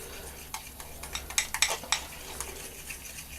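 Chocolate pinwheel mixture is beaten in a bowl with a quick whiz, giving a run of clattering, scraping strokes that bunch together and then taper off, close and moderately loud with no talk.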